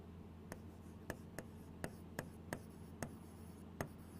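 Pen marks on an exam answer sheet: about ten crisp, separate taps and scratches, close and faint over a quiet room.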